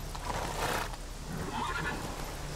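Roach, a horse in the video game The Witcher 3, gives a whinnying neigh over a steady game background bed, moderately loud and close.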